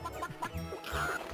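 Chickens in the video game Gex 3 give short, repeated clucks and squawks over a low background game hum, near and fairly quiet, without talking.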